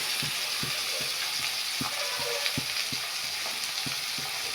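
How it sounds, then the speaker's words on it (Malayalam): Curry leaves sautéing in a hot pan while making puli inji, a steady loud sizzle throughout with rhythmic scraping stirs roughly every third of a second, close up and with no voices. "രണ്ടതിൽ കറിവേപ്പിൻ്റെ ഇല ഇട്ടിട്ട് നമുക്കിതിനെ നന്നായിട്ടൊന്ന് വഴറ്റി ആ ഒരു പച്ചച്ചായ മാറിയിട്ട് കിട്ടണം"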